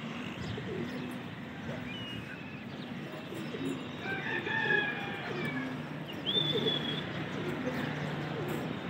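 Pigeons flying and cooing at a loft where pigeons are kept for flying contests, with soft coos and chirps under a steady noisy background and some talk mixed in.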